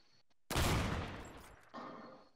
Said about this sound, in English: Oh my god, that's a shotgun.